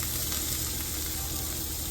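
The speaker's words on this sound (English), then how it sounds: "we're just going to saute this down and get it all nice and soft" Vegetables sauté in a pan with a loud, dense, unbroken sizzle held at an even level from start to finish.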